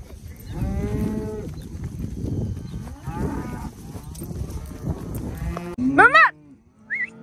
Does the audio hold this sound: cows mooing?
yes